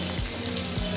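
Onion and capsicum sautéing in oil with garlic and chilli for chilli chicken, a loud, continuous close-up sizzle with faint stirring scrapes.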